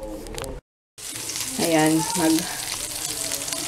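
Lumpia sizzle and crackle in hot oil, a steady frying hiss with a short break, while a voice speaks briefly over it.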